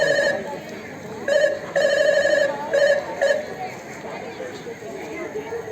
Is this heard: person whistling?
no